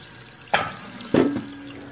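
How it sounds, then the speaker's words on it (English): Water running through a colander of raw oxtail pieces as they are washed, a steady faucet stream broken by two sharper splashes, close and without voices. "Now I have it in a colander, so the water is just running out."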